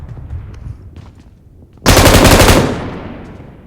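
Automatic rifle fire in PUBG Mobile erupts suddenly as a loud, rapid burst lasting under a second, then tails off in a fading echo, after faint rustling game sounds.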